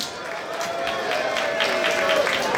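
A crowd at a ballroom competition event claps and cheers in a continuous, fairly loud wash of applause, with voices mixed into the noise.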